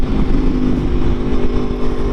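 An Aprilia Tuono motorcycle engine spins at high RPM, a steady, close, buzzing drone with a strong humming tone throughout the short burst.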